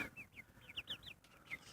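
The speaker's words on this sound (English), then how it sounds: "So we have all of our chickens" Chickens cluck in a homemade backyard run: a string of short, chirpy clucks in an uneven rhythm, fairly soft and close, with no talking.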